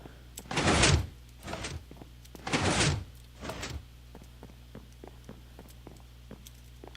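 Several knocks or thuds at the front door of a house in a Minecraft game, four heavy bursts in two pairs, then quieter soft ticking, with no talk.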